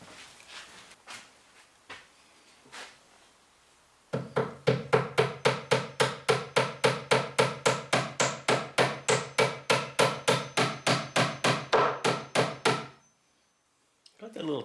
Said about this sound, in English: Got that little tack hammer